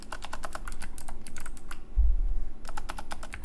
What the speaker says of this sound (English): I don't know why I'm typing in Aptos.